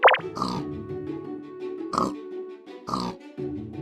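A pig in Minecraft oinks and grunts several times in short separate bursts, close and clear against a quiet game background.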